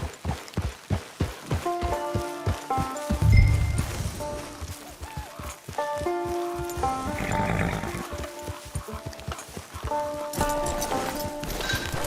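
Horse hooves clip-clop at a steady walking rhythm in the Red Dead Redemption 2 video game, close and clear, with a horse whinny and soft background music layered underneath.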